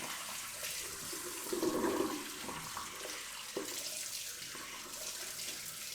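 Water runs from a tap for rinsing after beard care, a steady close splashing flow with a brief louder gush and a small knock partway through.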